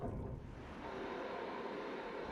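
Gusting wind in the Forest Temple of The Legend of Zelda: Twilight Princess makes a soft, continuous whooshing rumble, steady and moderately quiet over the brief stretch, with no voices.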